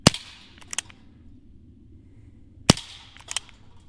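Two sharp, loud pops from a Daisy Red Ryder CO2 pistol, a couple of seconds apart, each followed by fainter metallic clicks and a short ringing tail, with no talking.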